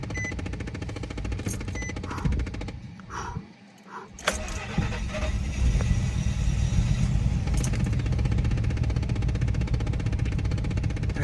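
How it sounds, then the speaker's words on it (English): A car engine runs steadily and loudly up close, dipping briefly as if revved down, then settling back into a rough, continuous rumble. "I'm gonna leave the door open so you guys can hear the engine."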